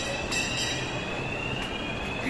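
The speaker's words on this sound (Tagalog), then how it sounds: "Ayun, sakay tayo ng train, oh." A train rolls steadily past close by with wheel squeal and rail rumble, a continuous loud wash of sound with a high whine running throughout, no talking.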